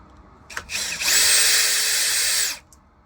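A power drill spins out a motor screw on a Shark vacuum in one loud, close whirring burst lasting about a second and a half, with a short whine up and down and a click just before it starts.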